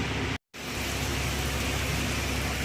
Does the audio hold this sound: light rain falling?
yes